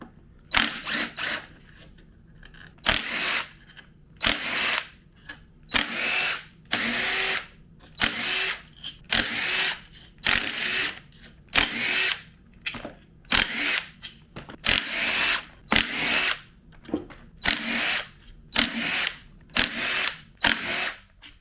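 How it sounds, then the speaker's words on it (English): A power tool removing engine case bolts from a Suzuki DR650 motorcycle, loud repeated bursts of whirring and ratcheting roughly a second each, separated by short pauses, in a workshop with no talking. "I'm going to go ahead and take all these case bolts out on this side."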